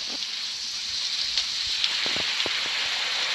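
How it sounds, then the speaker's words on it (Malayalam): Steady rain hisses down continuously, with scattered louder drops pattering close by. "മഴ പെയ്യുന്നത്"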